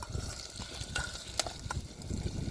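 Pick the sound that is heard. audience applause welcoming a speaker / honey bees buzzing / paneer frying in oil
paneer frying in oil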